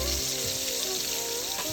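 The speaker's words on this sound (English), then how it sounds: "we're just kind of frying up those little nubbies" A steady, dense sizzle of Mangalitsa-Red Wattle cross pork chops frying in a hot pan, continuous and close, with no talking.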